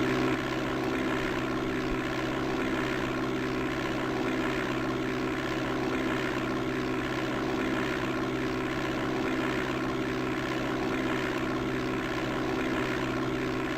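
A propeller airplane engine roars steadily on the takeoff run in Flight Simulator 5.1 under DOS, departing runway 31 at Peoria International, a continuous loud droning hum with no voices.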